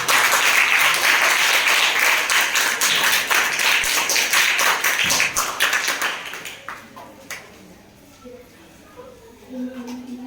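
A class of students claps loudly at the start of a morning math lesson, dense sustained applause for about six seconds that then thins out and fades into quiet room noise with faint voices.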